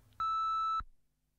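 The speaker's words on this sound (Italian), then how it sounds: "Potete lasciare un messaggio dopo il segnale acustico." A single sustained electronic tone from an answering machine sounds loud and clean for about half a second, then cuts off into silence.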